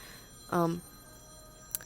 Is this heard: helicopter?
no